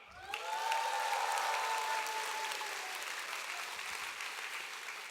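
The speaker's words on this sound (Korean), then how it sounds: "큰 박수로 모시겠습니다" A hall audience at a Korean Atomy Royal Master promotion ceremony in 2019 breaks into sustained, dense applause that swells quickly and holds steady, loud and continuous with no speech over it.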